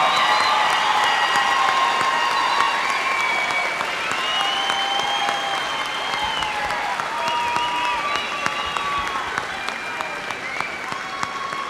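A crowd applauds the May 2019 graduates at the West Texas A&M University spring commencement. The steady, hall-wide clapping is mixed with scattered cheers and voices throughout.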